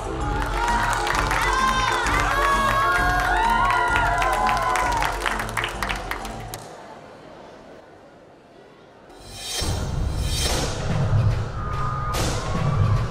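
A circus crowd applauds and cheers for the lion tamers, with loud clapping over music that fades briefly to a quiet lull before a fresh surge of crowd noise returns.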